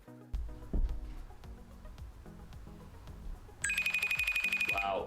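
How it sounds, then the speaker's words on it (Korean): A smartphone rings aloud after being triggered by the find-phone feature on a Suunto 7 smartwatch, a bright repeating electronic ringtone that begins partway through and continues steadily, preceded by softer tonal electronic beeps and some background talk. "순토 알림을 통해서 휴대폰을 쉽게 찾을 수 있습니다"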